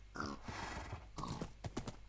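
Horses in Minecraft give loud nearby whinnies and neighs followed by a few quick hollow clip-clop hoof sounds, with short gaps between bursts.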